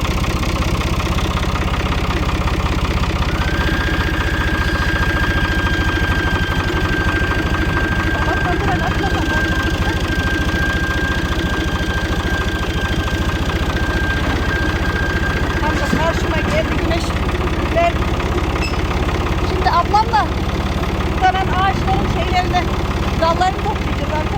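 A motorcycle engine idles and runs steadily at close range in a village garden, a constant mid-low drone with a long whine through the middle, while people talk over it.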